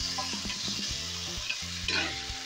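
Tomatoes fry in a hot pan with leafy greens, a steady close sizzle with occasional stirring scrapes and clinks of a utensil against the pan.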